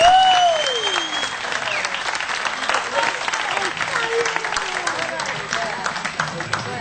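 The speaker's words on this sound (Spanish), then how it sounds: "¡Un aplauso!" Audience applause at the opening of a stage show, steady dense clapping from a crowd while a voice talks over it and a whistle-like tone sweeps through early on.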